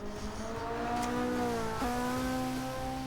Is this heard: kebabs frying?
no